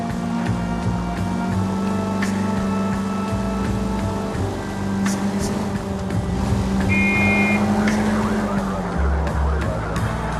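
In the L.A. Noire video game, a car engine drones steadily while driving, with a continuous loud hum and faint passing noises underneath, no speech.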